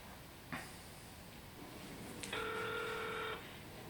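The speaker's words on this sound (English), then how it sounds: "So I'm going to phone customer relations again and see if I can get through" Phone call to a customer relations line being placed: a couple of faint clicks, then a steady electronic tone sounding for about a second, quiet and alone with no talking.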